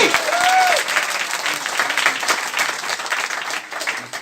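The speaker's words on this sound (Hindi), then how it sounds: "एक बार तालियां बजा दीजिए दम लगा के" Audience applause at a company sales gathering, a dense steady wash of clapping filling the room for several seconds, with a brief voice cutting in near the start.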